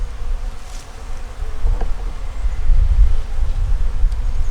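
Honey bees hum steadily around outdoor bee hives, their close, continuous buzz rising and falling and swelling slightly toward the end.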